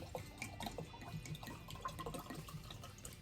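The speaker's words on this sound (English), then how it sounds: "just pour till your ancestors tell you that it's enough" Yellowtail Sangria Blanco wine pours from a freshly opened bottle into a glass, a faint steady trickle with small splashy drips, no talk.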